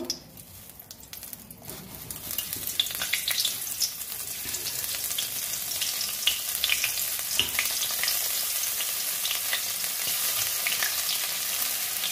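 Black and white cumin seeds hit hot oil and fry in a crackling sizzle that builds after a quiet start and then holds as a dense, continuous spatter close by, with no voices.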